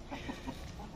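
Black Australorp hens and roosters in a free-range coop, a few soft clucks close by over a steady noisy background, brief and faint, no talk.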